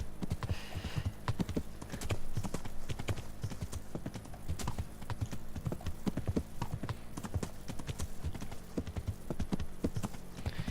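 Horse hooves clip-clopping in the video game Kingdom Come: Deliverance, a steady rhythmic trot of sharp hoof strikes carrying on throughout, close and even, with no speech over it.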